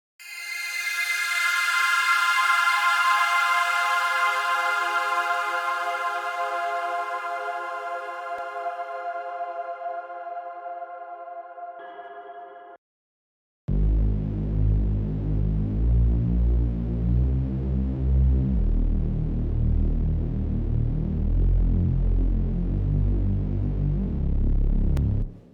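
A synth pad whose flange filter cutoff sweeps slowly under a 16-bar LFO, a sustained bright drone that slowly fades and then cuts out. A thick pulsing unison saw bass follows, loud and steady.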